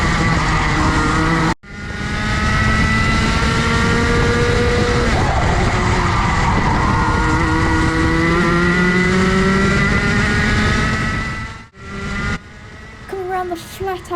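A Junior Rotax racing kart on a lap at Mansell Raceway, its engine screaming loud and close with pitch rising and falling through corners and straights, cutting out briefly twice as the driver lifts off.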